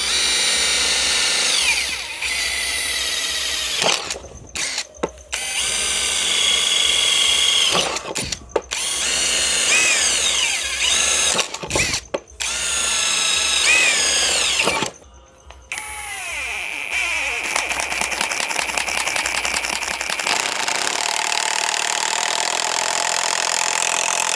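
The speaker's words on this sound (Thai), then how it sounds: "เราไปเพื่อชมการเจาะปูน" An EMTOP M16 16V cordless impact driver bores into concrete, loud close whining bursts separated by short pauses, ending in a steadier rattling hammering run.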